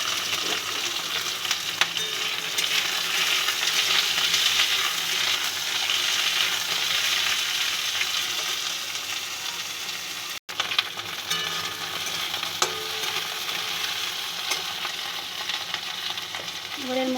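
Potatoes, raw banana, papaya and carrot for shukto fry in a pan, making a steady, dense sizzle with frequent stirring scrapes throughout. A brief dropout breaks it near the middle.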